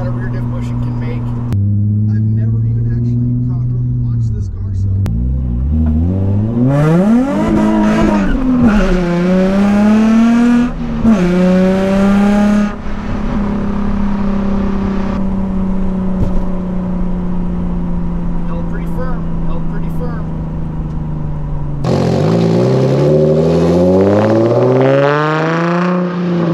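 A Nissan 350Z with a new rear differential bushing launches hard, its engine revving loudly and rising in pitch through gear changes, sustained near and dominant for the whole stretch with a brief drop before revving climbs again.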